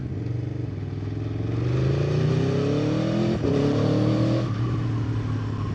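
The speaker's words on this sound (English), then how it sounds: "for a stock exhaust, that sounds absolutely stunning to my mind" A 2015 Aprilia Tuono 1000 V4 motorcycle with stock exhaust revs up through rising gears, its exhaust note climbing and dropping with a quick-shifter change, loud and close with no talking.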